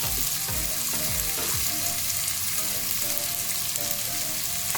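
Paneer fries in hot oil, a loud, steady crackling sizzle with a few spoon scrapes and stirs, close up and continuous.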